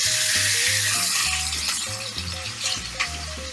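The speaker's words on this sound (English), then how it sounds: "We're going to stir fry the meat and brown it." Meat sizzles loudly as it is stir-fried and browned in a hot pan, a dense continuous hiss with steady tonal hum and a few clinks of a utensil against the pan, close up.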